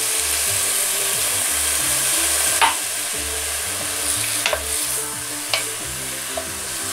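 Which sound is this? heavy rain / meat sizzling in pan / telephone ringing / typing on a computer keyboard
meat sizzling in pan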